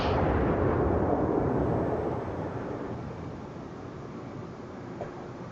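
Deep, rumbling boom of battleship main guns firing in World of Warships, a single heavy blast that fades slowly into a long rolling decay, with no talking.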